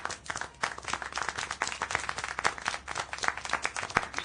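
Scattered applause from a small group in the video game Syberia The World Before, with uneven, distinct hand claps in a brisk irregular rhythm that keeps going steadily and fairly close.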